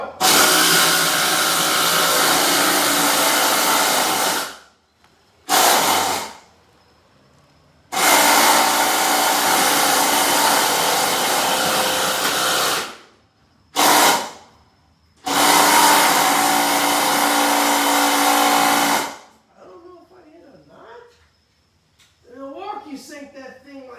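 Milwaukee M12 and Dewalt 12V impact drivers driving fasteners, loud rattling hammering bursts of several seconds each, broken by short pauses, ending in quieter bumps and scrapes.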